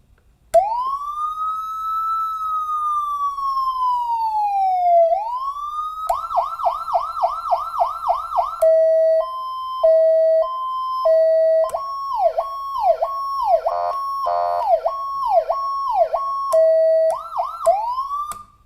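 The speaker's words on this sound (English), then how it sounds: "lets you operate siren tones continuously" An electronic siren cycles through several patterns: a long slow wail, then rapid yelps, alternating hi-lo tones and fast warbles, loud and close with no voices.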